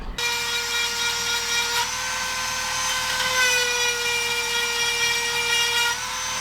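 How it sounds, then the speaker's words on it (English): A steady, high-pitched grinding whine with a sustained tone runs throughout as a chainsaw chain is sharpened in a barn, close and continuous. "while I sharpen this chainsaw up"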